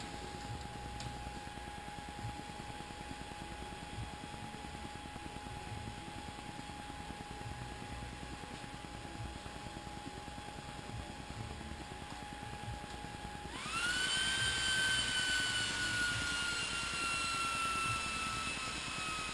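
An HP DL160 G6 1U rack server booting, its fans holding a steady whine and then abruptly spinning up to a louder, higher roar that stays constant, close by with no talk.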